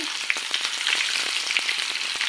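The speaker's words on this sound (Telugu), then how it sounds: "కొంచెం సిమ్లో పెట్టుకొని నిదానంగా ఫ్రై చేసుకుంటే చక్కగా ఫ్రై అవుతాయండి" Stuffed bitter gourds frying slowly in hot oil over low heat, giving a steady, fine sizzle with faint crackles and small pops throughout, no talking.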